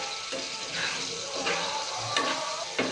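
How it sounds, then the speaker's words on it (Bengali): Aloo posto, potato in poppy seed paste cooked in mustard oil, stirred in a pan with a steady sizzle and periodic scraping strokes of the spatula at close range. "এইভাবে নাড়তে থাকতে হবে, একটু শুকিয়ে এলে তখন তুলে নেব"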